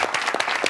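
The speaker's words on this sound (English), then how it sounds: "Give a round of applause." A studio audience claps through a brief burst of applause, dense and close, with no speech.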